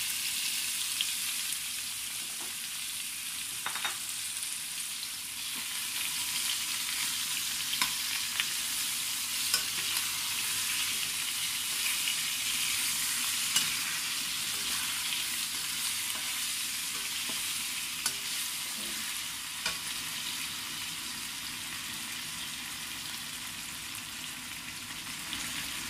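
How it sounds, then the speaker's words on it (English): Chicken wings and potato frying with garlic and ginger in a pan, a loud, continuous sizzle with occasional scraping stirs, steady for a long stretch and free of talk. "fry it."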